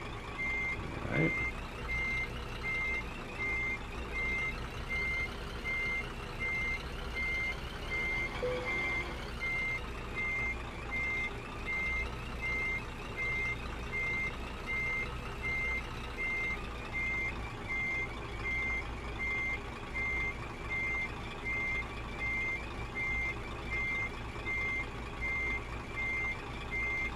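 Truck reversing alarm in Euro Truck Simulator 2, a steady high beep repeating evenly for nearly half a minute over a low engine idle, clear and close.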